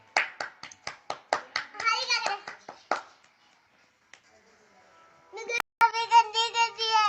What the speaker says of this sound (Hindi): इतना मजा आ गया। तालियां।